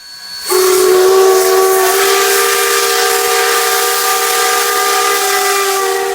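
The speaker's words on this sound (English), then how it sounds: "The whistle was overblowing and not sounding all the chimes." A Lima five-chime steam whistle on Sierra Railway No. 3 blows in one long, loud, steady blast after a brief hiss, overblowing so that not all of its chimes sound.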